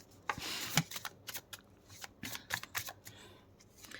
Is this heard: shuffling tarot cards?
yes